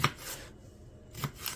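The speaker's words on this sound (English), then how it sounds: "you get to see all of what I'm chopping up" A knife chops ingredients for a bean soup with smoked hog jowl and collard greens on a board, giving a few distinct close thuds separated by a short silent gap.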